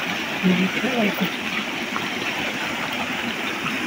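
Steady rushing water from Busay Falls in Quezon fills the scene, a continuous broadband roar of a nearby waterfall, with people talking faintly underneath.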